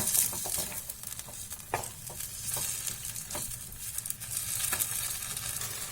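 Chopped tomatoes, four of them, frying in a pan for paneer butter masala, with a steady soft sizzle under scattered scraping stirs and light clinks, no voices.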